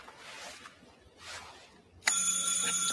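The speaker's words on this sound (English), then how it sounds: "That's a doorbell." Doorbell chime rings out suddenly after a stretch of quiet murmuring, a bright tonal ding that starts sharply and sustains loudly to the end.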